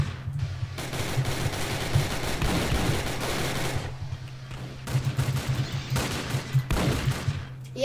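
Cannon gunfire in the Roblox airship battle game Zeppelin Wars, rapid repeated shots and bursts in near-continuous barrages, with a short lull midway before another dense volley, loud over steady engine drone.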